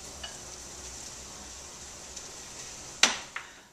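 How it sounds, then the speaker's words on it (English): Potatoes stirred into a cooking filling mixture with chopped cilantro: a steady low sizzle runs throughout, broken near the end by a sharp utensil knock against the pan and a softer tap after it. "And now I'll stir in my potatoes."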